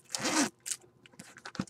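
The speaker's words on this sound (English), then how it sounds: "it's got this cute little zipper. That zipper is pretty stout." A zipper is pulled in a quick, close rasp, followed by shorter scratchy tugs and small rustles.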